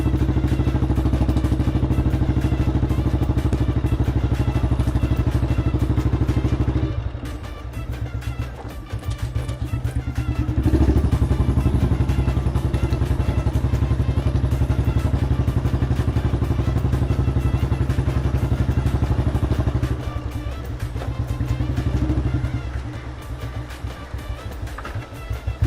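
A restored 1983 motorcycle on a test drive, its engine beat and exhaust droning loud and steady throughout, with rattling clatter and a couple of brief dips as the revs ease off.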